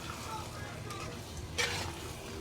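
Chicken for biryani is stirred in a pot with a soft sizzle and faint scraping, quiet and brief, with a louder scrape near the end.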